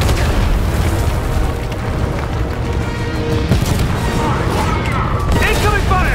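Incoming fire and explosions during a Fortnite battle event with a tank, a continuous loud barrage of booming blasts and gunfire bursts filling the whole stretch, with voices speaking over the din.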